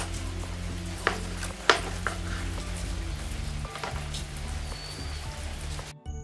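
Steady rain falls outdoors on a wet morning, a continuous dense patter with a few sharper splashes and knocks from someone working nearby.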